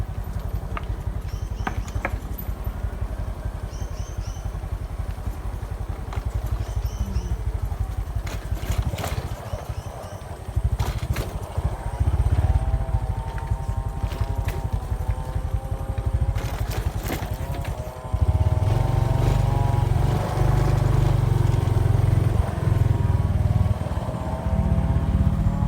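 A small motorcycle carries riders along a rough rural road in a village area, its engine running steadily close by, rising in revving bursts later on.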